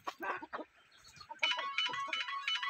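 Chickens roosting up in trees outdoors in harsh winter cold, clucking and crowing close by, with a louder, denser burst of rooster calls in the second half.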